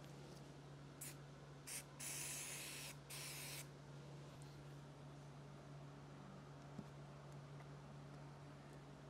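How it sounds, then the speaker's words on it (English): High-strength 3M 93 spray adhesive sprayed onto leather seat cover material in a Tahoe, several short hissing bursts followed by two longer sustained sprays, close and loud over a steady low hum. "I just have some high strength 93M spray adhesive that I use for my headliner"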